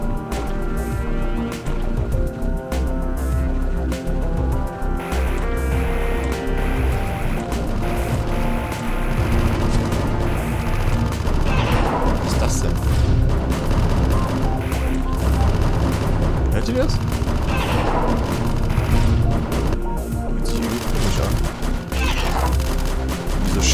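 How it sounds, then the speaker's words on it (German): Rapid gunfire and booming blasts from the video game AM2R fill the clip, dense and continuous over a loud game soundtrack, with clustered impacts in the second half. "Schüsse."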